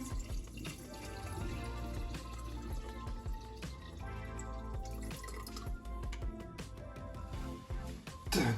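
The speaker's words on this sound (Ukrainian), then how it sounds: "ємність для солі необхідно спочатку наповнити водою" Water splashes and trickles steadily into the salt container of a Franke dishwasher, with small drips and gurgles throughout, fairly close and continuous.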